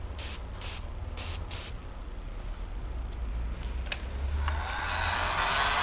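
A Badger 250 airbrush sprays paint in a steady, soft hiss of air and mist. A few short bursts come first, then a longer continuous spray.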